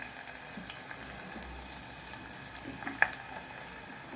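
Spices tempering in hot oil for an okra dish give a steady low sizzle throughout, with a brief sharper crackle near the middle; no one speaks.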